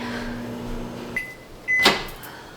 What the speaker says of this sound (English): So we actually are gonna microwave it one more time